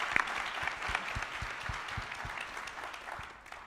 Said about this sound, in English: So please give a round of applause to the SMPS national staff.